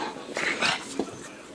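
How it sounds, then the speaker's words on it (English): A pug gives short whimpers and a couple of quick yips at close range, with breathy sounds in between. "As I get attacked by a rabid pug."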